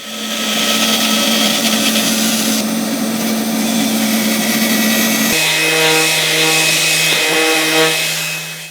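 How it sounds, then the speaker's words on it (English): A bandsaw cuts through a wooden sacrificial fence for a Festool Kapex mitre saw, a loud continuous whine and buzz of blade in wood that shifts in pitch partway through and runs unbroken to the end. "I'll now do that bit of bandsaw work."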